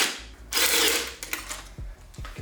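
A Torx bit on a ratchet undoes two T30 bolts on the charge pipe of a 2.0 TDI CJAA diesel engine, with short bursts of ratcheting clicks and rustling at close range.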